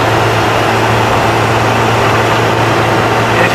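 An old 201 car engine runs steadily at moderate revs, a loud, continuous close-up drone with a low rumbling hum and no voices over it.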